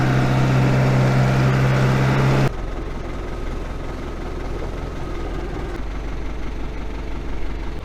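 A tractor engine on a vegetable farm idles with a steady low hum that is loud at first, then drops to a quieter, even rumble for the rest.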